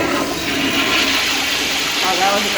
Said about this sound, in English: Oh, that was a good flush.